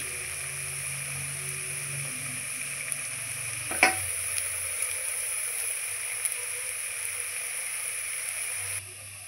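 Semolina and boiled potato snacks fry in oil with a quiet, steady sizzle, interrupted once by a sharp utensil clatter partway through before the sizzling resumes and then drops away near the end.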